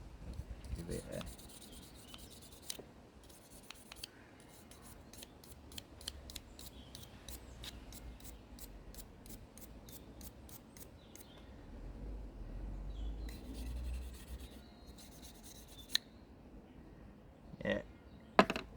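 A screwdriver gets a light scrubbing to remove rust, heard as quiet, rapid rhythmic scratching strokes in bursts with pauses, close but faint, ending in a few louder knocks.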